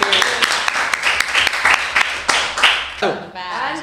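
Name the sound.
audience applause for the technical crew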